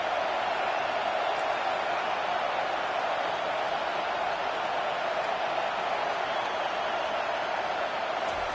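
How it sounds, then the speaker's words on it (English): Steady roar of a stadium crowd in a college football video game, LSU hosting Penn State, a dense continuous wash of cheering that holds at the same loud level throughout with no talk over it. "This crowd knows when to bring it."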